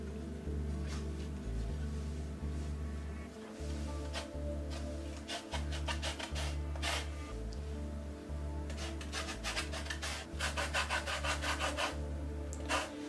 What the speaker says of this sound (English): put them together with a bit of grated orange peel. So you'll need your grater.